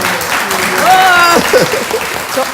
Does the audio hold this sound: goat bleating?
no